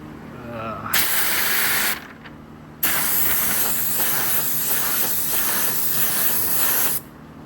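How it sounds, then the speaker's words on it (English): Paint spray gun spraying green paint hisses loudly and close in two long bursts, one brief, then a sustained spray of several seconds, separated by a short pause with faint background sound. "reload this with the green paint, shoot it down at the bottom between here and here"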